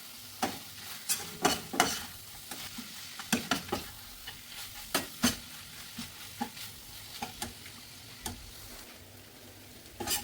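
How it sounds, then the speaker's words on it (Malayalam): Chicken and grated coconut are stir-fried together in a pan for a Kerala-style thoran, a low sizzle broken by frequent sharp spatula clacks and scrapes in an uneven rhythm, close and without talk. "ഇനി മൂടി തുറന്ന് പിന്നെ നല്ലോണം ഒന്ന് വഴറ്റി ഈ തേങ്ങയും ചിക്കൻ തമ്മിൽ യോജിപ്പിച്ചെടുക്കാം."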